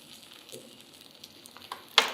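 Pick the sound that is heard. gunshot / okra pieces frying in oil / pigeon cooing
okra pieces frying in oil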